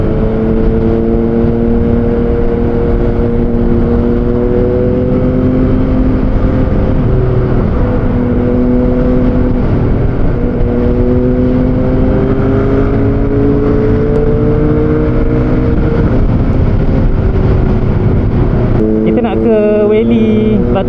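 KTM Duke 390 motorcycle riding through city streets, a steady loud engine drone with rising and falling pitch as it accelerates and shifts, continuous throughout with strong wind buffeting.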